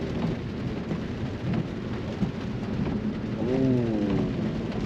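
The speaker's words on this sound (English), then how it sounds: "it's raining. Like, it's pouring over here." Heavy downpour and thunder rumble steadily around a car on a wet Atlanta drive, a dense wash of rain with low rolling thunder, plus a brief warbling tone near the end.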